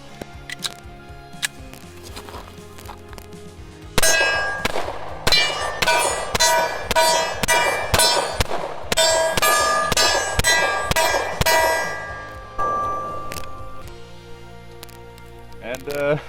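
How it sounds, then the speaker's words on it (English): Glock 22 Gen 4 pistol in .40 caliber emptying a magazine: about a dozen sharp, loud reports in quick, slightly uneven succession, each ringing off briefly, with quieter handling sounds before and after. "And I'll go ahead and shoot another mag."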